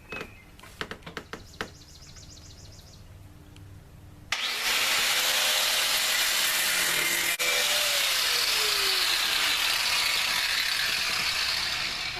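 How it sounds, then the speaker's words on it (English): A power cutting tool slices through an old bracket on a Dodge Daytona, a loud continuous harsh whine kicking in after a few seconds of light clicking and ratcheting noises, running steadily to the end. "We got that bracket all cut out now."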